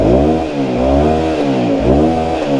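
An Aprilia Shiver 750 motorcycle engine with a leaking exhaust revs close up, its loud droning note rising and dipping in repeated blips with a rough, blowy edge.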